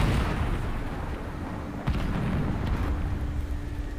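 Explosions from a bombing run in War Thunder Mobile, a continuous rumbling barrage with a sharper blast near the middle and crackling bursts after, at moderate distance.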